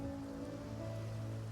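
Rain ambience in the video game Path of Exile 2, a soft, even hiss of falling rain, faint and continuous, with a low steady hum underneath and no voices.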